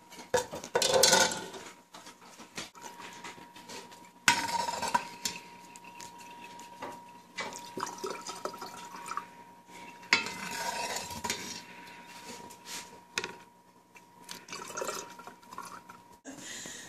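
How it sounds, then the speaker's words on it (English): A ladle scoops hot rendered lard oil into a glass mason jar, with intermittent metallic scrapes, clinks and soft liquid pours separated by quiet pauses. "So I'll be using just a ladle and scooping it into the jar."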